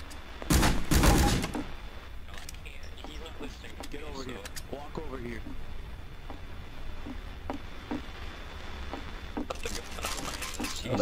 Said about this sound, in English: he's still firing, bro